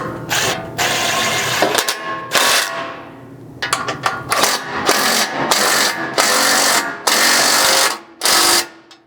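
A powered ratchet tightens M8 hex bolts on a Toyota Tacoma skid plate in repeated loud, close whirring bursts of a second or two each, separated by short pauses.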